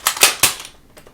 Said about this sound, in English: Oh, it was celebratory gunfire.